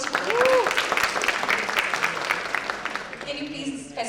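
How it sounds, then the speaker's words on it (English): An audience at a student leadership event applauds, a steady wash of clapping lasting a few seconds with voices briefly audible over it before it thins out. "Can we have a round of applause for the first?"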